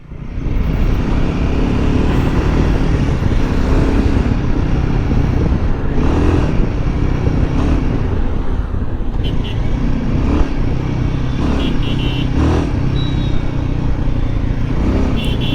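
A Royal Enfield Himalayan 450 motorcycle is ridden on the road, its engine droning loud and close without a break, with throttle swells and rushing wind throughout.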